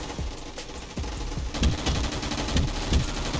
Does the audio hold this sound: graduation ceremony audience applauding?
no